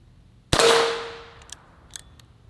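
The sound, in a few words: gunshots from rifle firing old ammunition at target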